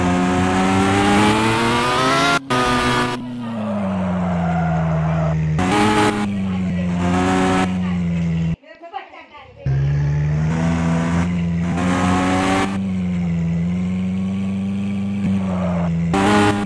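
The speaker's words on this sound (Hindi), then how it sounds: "अब आराम आराम से गाड़ी चलाना पड़ेगा।" A Lamborghini engine in the Car For Sale Simulator video game drones and revs loudly, rising and dropping in pitch through repeated accelerations, with a brief cut to near silence midway.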